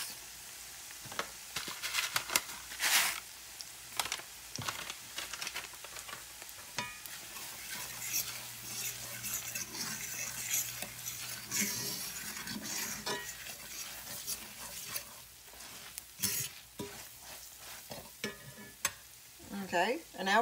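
Onion soup mix being stirred into onions frying in butter in a pan, with steady sizzling and repeated scraping and clinking of a utensil throughout, close and moderately loud, no talking.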